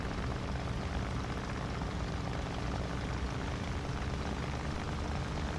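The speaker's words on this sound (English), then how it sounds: "I can hear an engine approaching, but I don't see an engine." A Me 264 enemy aircraft engine in a flight sim drones as a steady, continuous low propeller rumble, holding at an even level across the whole stretch with no voices.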